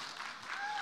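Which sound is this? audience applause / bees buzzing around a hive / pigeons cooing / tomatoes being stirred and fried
audience applause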